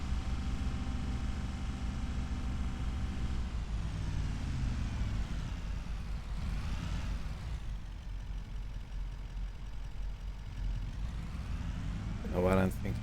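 A logging truck in a roleplay video game rumbles with a steady low engine drone that shifts pitch as it manoeuvres, loud and continuous while someone talks over it.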